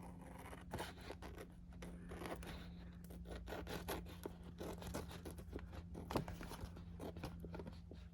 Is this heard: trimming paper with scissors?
yes